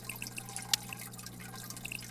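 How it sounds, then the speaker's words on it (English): In the Biotope Aquarium Simulator game, a water change plays as soft, close drips and small trickling splashes over a steady low hum, with one brief brighter splash near the middle. "Let's do a water change."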